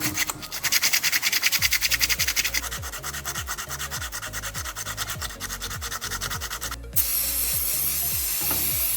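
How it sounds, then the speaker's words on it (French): Sandpaper is rubbed in quick, rhythmic strokes over a metal engine part to clear out filings, close and steady, with a harsher, brighter scraping tone in the last couple of seconds. "je vais passer un petit coup de papier de verre pour enlever toute la limaille qui est à l'intérieur et à l'extérieur"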